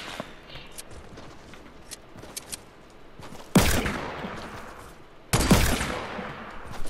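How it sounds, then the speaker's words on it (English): Gunfire in the Fortnite video game: two loud sharp blasts a couple of seconds apart, each with a decaying tail, over faint background game noise. "Where are these shots going?"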